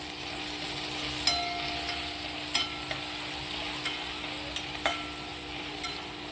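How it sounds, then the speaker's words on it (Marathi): A crushed paste of garlic, ginger and two or three green chillies sizzles steadily in hot oil in a pan, with the occasional light scrape of a stirring spoon, close and continuous. "त्याचा ठेचा आपण यामध्ये परतून घेऊ"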